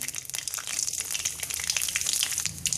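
Black cumin seeds sizzling in hot mustard oil in a pan, a steady dense crackle and hiss filling the whole stretch without pause, close and fairly loud.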